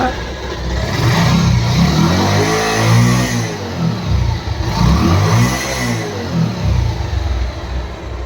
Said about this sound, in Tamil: மாட்டி வண்டியை ஸ்டார்ட் பண்ணி பார்ப்போம் இன்ஜின் நாய்ஸ் வந்து எப்படி இருக்குங்கிறத